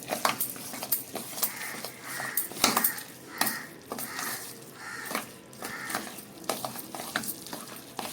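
Mysore bonda batter with warm oil is mixed by hand in a bowl, producing a steady run of wet slapping and squelching pulses with occasional clinks against the vessel.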